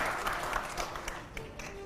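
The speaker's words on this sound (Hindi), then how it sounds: "अगले सवाल के लिए जोरदार तालियां हो" An audience at a live Hindi television debate event gives steady, enthusiastic applause, a dense wash of many hands clapping, continuous and moderately distant, with no voices over it.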